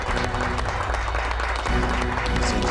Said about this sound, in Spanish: Por favor, otro aplauso para el licenciado.